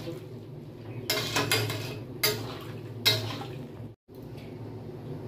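Potato dish ingredients stirred and mixed in a pan, a few scraping, clattering strokes of a utensil against the pan over a low cooking hiss.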